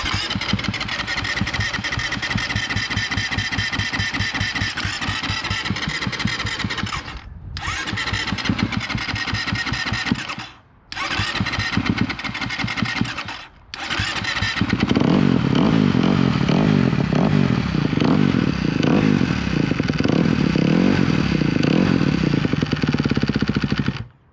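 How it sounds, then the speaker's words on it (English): A Kawasaki race motorcycle engine, with valves suspected bad, cranks with several loud stuttering attempts broken by short pauses, then catches and runs roughly at a loud, steady, close-up roar. "I am mistaken. Kawasaki does start."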